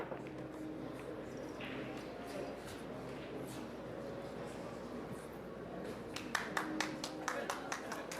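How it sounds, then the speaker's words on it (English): Scattered applause from the audience at a USA versus Norway pool match in the WPA Teams World Championship, rising briefly near the end over a low murmur of commentary and room noise. "Big round of applause for a ball down for Shane."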